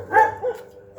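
A dog gives a single near bark, followed by a softer second yelp, over quiet outdoor background at a hidden camp in Indang, Cavite.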